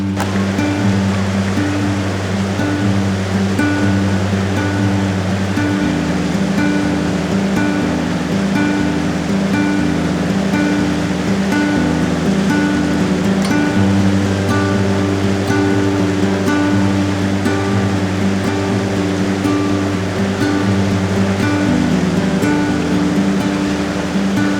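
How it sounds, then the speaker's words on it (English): Water flows steadily beside a ledge trail in Zion National Park, a continuous loud rushing wash that holds even for nearly half a minute, with a faint low hum underneath and no voices. "The sound of the water, the nature"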